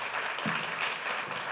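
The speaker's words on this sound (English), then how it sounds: "So give her a round of applause." An audience gives a brief round of applause for a speaker at a formal presentation, a steady wash of many hands clapping at moderate distance with no voices over it.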